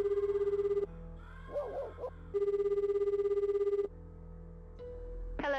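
A telephone rings through a receiver in Shenmue as a call to directory information is placed: two long electronic ring bursts separated by a pause, then a brief rising tone at the end, with no talking.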